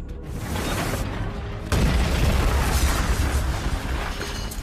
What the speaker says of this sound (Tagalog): biglang nawalan ng preno si Ken, na nagdulot ng napakalaking pagsabog